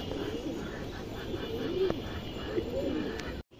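Pigeons coo softly and repeatedly at a loft for tournament racing birds, the low throaty calls rolling steadily at moderate distance before cutting off abruptly at the end.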